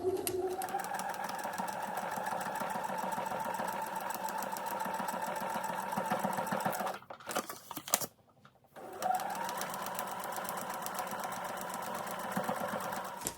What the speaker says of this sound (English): I have piece number 13 in position, background fabric, and I'll go ahead and sew that on